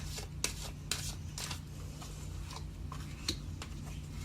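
Tarot cards shuffled by hand at close range, a run of soft papery riffles and sharp taps with irregular gaps, over a steady low hum.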